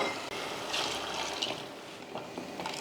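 Water poured into ginger-garlic paste while making a Tamil breakfast side dish for idli and dosa, a soft, steady trickling and splashing that runs on for a few seconds with no talk.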